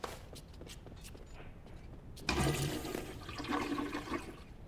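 A toilet flushes in a bathroom stall in the LEGO Fortnite video game: quiet shuffling and light footsteps first, then a sudden loud rushing swirl of water that keeps going to the end.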